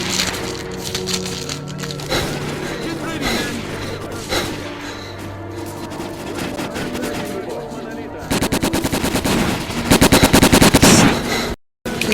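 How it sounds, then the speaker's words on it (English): Sustained gunfire from a shootout in STALKER Call of Pripyat played on PlayStation, dense rapid bursts that grow louder and more continuous toward the end, with talk over the battle. "Major Detailer, we're taking heavy fire from an unidentified enemy."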